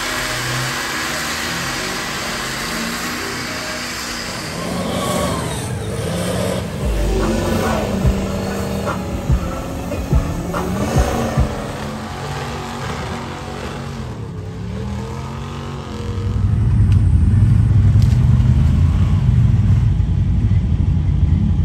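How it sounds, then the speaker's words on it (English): Mud truck engine revving and rumbling as it drives through thick swamp mud at a mud ranch, a steady loud roar that swells into a heavier, deeper pull near the end, with no talk. "Just drove right through the swamp."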